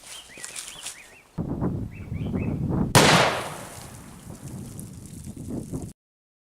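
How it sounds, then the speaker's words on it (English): A 300 Win Mag rifle shot at milk jugs outdoors gives one sharp, loud crack that rolls into a decaying echo. Birds chirp and there is low rumbling ambience before and after. "first we're going to do the 300 Magnum"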